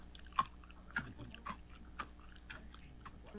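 Someone bites and chews crunchy homemade veggie snacks made to mimic buffalo wings and seasoned with Chicken 65 spice; sharp close crunches at roughly half-second intervals, crisp and distinct, with no talking.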